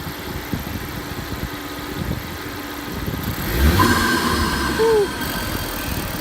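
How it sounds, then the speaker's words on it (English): A 2.3-litre Ford Focus RS rally car sits idling and then is revved, the engine note swelling loud and close for a couple of seconds before settling back toward idle. "Want to rev it up so you can hear the engine from this side?"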